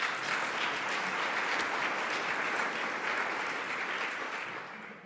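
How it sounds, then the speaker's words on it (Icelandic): A lecture audience greets the arriving speaker with warm applause, dense steady clapping that holds strong and then tapers off in the final second. "við skulum gefa hann gott klapp til að byrja með"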